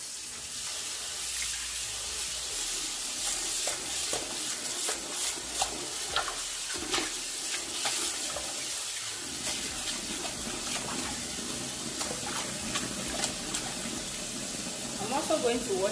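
Tap water runs into a sink while fresh thyme and rosemary are washed, a steady close hiss of flowing water with scattered splashes and handling clatter throughout, no voices.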